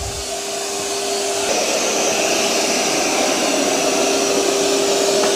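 Eufy robot vacuum running over carpet, a loud steady broadband whirr with a constant motor tone, heard alone and close throughout.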